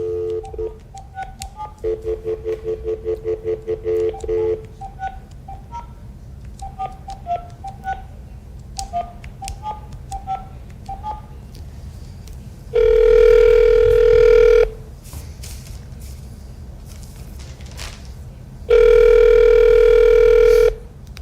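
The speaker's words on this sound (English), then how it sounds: "Call George and Rose." A telephone call is placed: rapid bursts of touch-tone dialing beeps and tones, then two long loud ring tones separated by a pause, heard close and clear.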